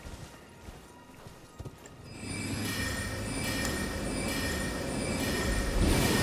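Galloping horse hoofbeats in the video game Elden Ring, starting faint and growing into a steady, dense drumming with a rumbling, rushing wash behind it.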